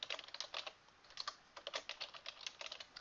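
Quiet, steady typing on a computer keyboard, with rapid soft key clicks in short bursts and brief pauses, close by and with no speech.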